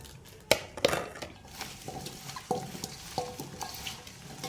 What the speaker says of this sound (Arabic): نقلب كله مع بعض كده